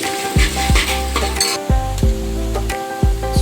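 Cumin seeds hiss and crackle in hot oil in a pan, a continuous loud sizzle punctuated by sharp clinks and scrapes of a spoon stirring against the metal pot.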